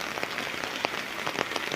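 Heavy rain pours down steadily during monsoon flooding, a dense, close hiss of drops pattering on surfaces with scattered louder splats and no voices.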